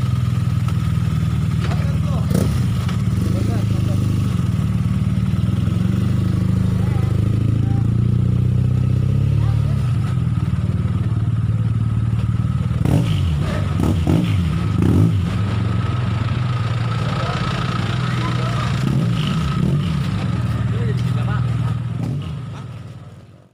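A motorcycle engine runs and revs steadily throughout, loud and close, with a rough idle and throttle blips, while people talk over it.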